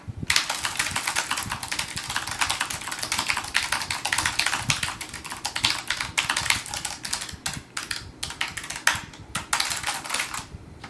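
Rapid, continuous clacking of a Logitech G915 mechanical keyboard being typed on, close and steady, with a few brief pauses near the end and no talking.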